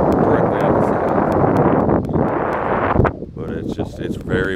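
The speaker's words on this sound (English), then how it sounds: "But it's just, it's very windy, which I hate when you're bank fishing." Strong wind buffets a microphone on a riverbank while bank fishing for blue catfish, a steady loud roar for about three seconds before easing into gusty, uneven blowing.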